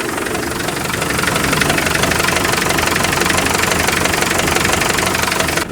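A ZIL truck engine with a fault idles unevenly close by, a loud continuous rumble with a rough, knocking pulse and no talking.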